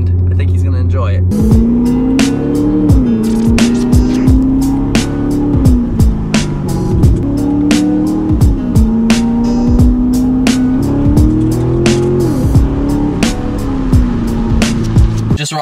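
A Corvette fitted with a new exhaust drives along, its engine droning steadily and rising and falling through gear changes, with sharp clicks and knocks scattered throughout and a voice talking over it.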